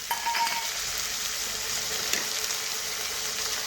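Small cut potatoes and onions sizzling in a pan with turmeric, chilli powder, cumin powder and salt, a bright continuous hiss with a few stirring clinks near the start.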